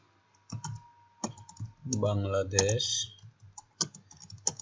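Computer keyboard typing in an Excel spreadsheet, heard as scattered clicks and short bursts of keystrokes, with a voice speaking briefly in between.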